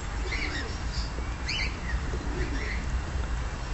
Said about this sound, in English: Oh, baby, look at the doves.